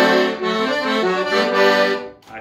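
A Torino 80-bass accordion plays on its master register, a full, reedy, buzzing tone with moving notes for about two seconds before trailing off.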